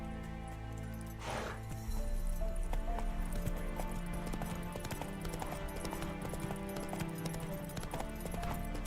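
Hooves of Roach, Geralt's horse in the video game The Witcher, clip-clop in a steady galloping rhythm, fairly close and moderately quiet, with a faint whinny near the start and no talking.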